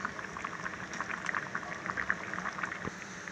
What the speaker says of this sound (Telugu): చూసారు కదా కూర మనకి ఉడికిపోతుంది చక్కగాని.